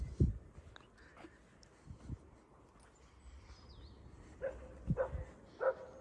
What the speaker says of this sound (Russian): Ой, собачки гавкают